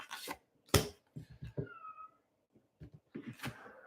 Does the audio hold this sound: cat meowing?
yes